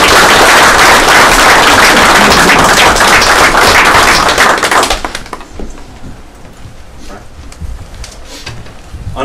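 Loud applause from a town meeting audience in Milton, New Hampshire, honoring a police officer, dense and sustained for about five seconds before cutting off to quiet room noise.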